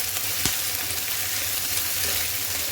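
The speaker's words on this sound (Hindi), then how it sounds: "गार्लिक और ग्रीन चिली ऐड कर दूंगी ताकि ये भी हल्का सा फ्राई हो जाए" Garlic and green chilli frying in oil for chicken pulao, a steady close sizzle with one brief sharp clack early on and faint stirring, no voices.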